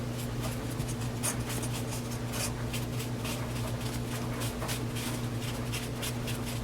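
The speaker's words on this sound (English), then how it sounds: "with a paper towel, we're going to just rub it down" A paper towel rubs wood stain into a maple and pine inlay sign, making repeated soft scrubbing strokes close up over a low steady hum.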